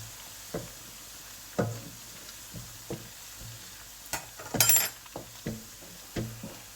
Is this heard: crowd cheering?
no